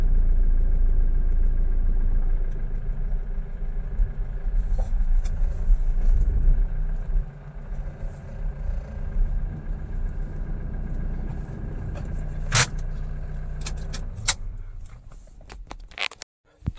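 A car engine runs with a low, steady rumble while the car is driven to a parking spot, loud and close at first and then easing, with a few sharp knocks near the end.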